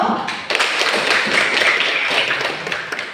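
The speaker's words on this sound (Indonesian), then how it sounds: "Kita berikan aplaus untuk kelompok 1" Classroom applause for a student group after a presentation, a short burst of many hands clapping steadily for about three seconds.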